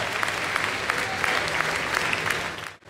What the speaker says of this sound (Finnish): Noin ja aplodit Mikael Erlandsson.